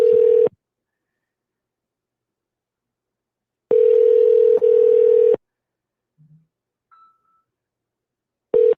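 A telephone line sounds a loud, steady dial tone in repeated bursts broken by silences, with brief faint dialing beeps in between and the tone cutting in again at the end.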